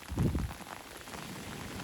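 Heavy summer rain pattering across a bream fishing spot, a close, dense wash of drops with a louder burst early on, continuous and without voices.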